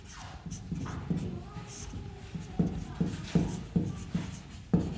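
Hindi shorthand strokes are written by hand with pen on paper, giving soft, close scratching strokes in a loose rhythm of about ten short bursts, with no talk over them.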